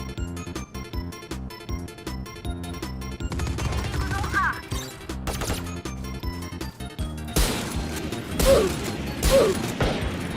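Rapid bursts of Valorant gunfire crack over a busy mechanical backdrop, with sharp impacts and a faint voice at times.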